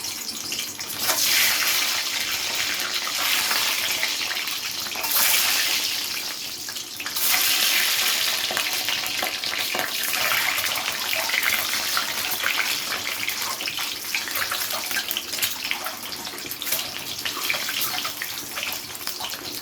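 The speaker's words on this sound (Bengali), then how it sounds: "এবারে আমি ডিমগুলোকে তেলের মধ্যে ডাইরেক্ট ভেজে নেব।" Eggs fry directly in oil in a pan with a steady, dense hiss and crackle that swells in spots and runs unbroken for about twenty seconds, close by and with no talking.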